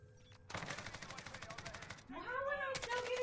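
Automatic gunfire in Call of Duty Warzone, a rapid even burst of shots lasting about a second and a half, followed by a voice speaking and then another short burst.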